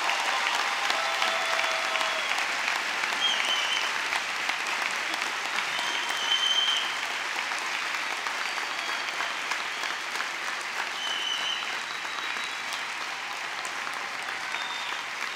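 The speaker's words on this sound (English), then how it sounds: "give a big round of applause to graduating students" A standing audience at a health sciences graduation applauds the graduating students with sustained, dense clapping, with faint scattered cheers mixed in, staying loud and steady before easing slightly toward the end.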